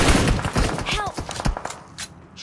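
Gunfire in the mobile shooter PUBG Mobile, a quick burst of close rapid shots followed by a few spaced thuds, with a player's voice talking over it.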